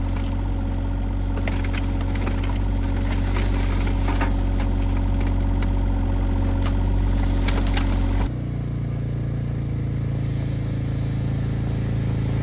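Diesel engine of a loader tractor running steadily while it carries a heavy bucket of material on a foundation and slab pour for a hobbit house build. The engine note is loud and continuous, then drops to a lower idle near the end.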